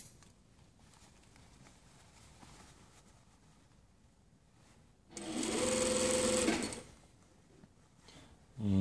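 A sewing machine stitches a jacket hem in one loud, close burst of rapid whirring that lasts about a second and a half after a quiet stretch. The motor starts again right at the end.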